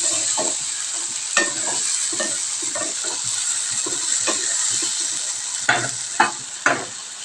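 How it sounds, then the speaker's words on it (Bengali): Vegetables are stirred in hot oil in a pan with a steady sizzle. Repeated utensil scrapes and knocks come through, and a few sharper clanks land near the end. "এবার এগুলোকে ভালো মতন নাড়াচাড়া করবো।"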